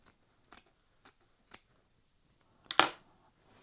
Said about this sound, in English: I'm going to cut a tiny bit off